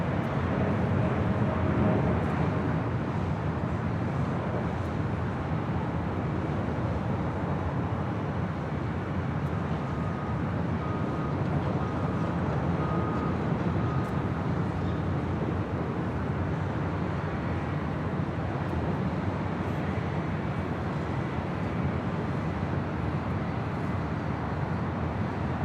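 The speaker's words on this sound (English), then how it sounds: "American 27 now rolling on 25 right to Tokyo Haneda on a 787-8 Dreamliner" A Boeing 787-8 Dreamliner rolls for takeoff on runway 25 Right at Los Angeles International Airport, a steady broad roar of jet engines holding loud and even throughout with no voices over it.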